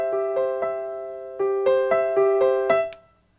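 Piano playing Bach's Prelude in C, a steady stream of clear broken-chord notes in an even rhythm, close and alone; with the sustain pedal lifted early, the final note is cut short and detached before the sound quickly fades to silence.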